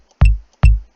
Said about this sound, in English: This is our kick drum, okay?